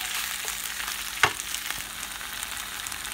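Spinach wilting in a frying pan gives a steady, fairly quiet sizzle, broken by one sharp clatter of a utensil against the pan partway through.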